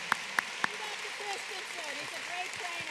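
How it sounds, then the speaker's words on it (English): An audience at a PPE donning and doffing demonstration applauds in a steady, soft wash of clapping, fairly distant and even, with a few sharper claps near the start. "Please give a round of applause for our model"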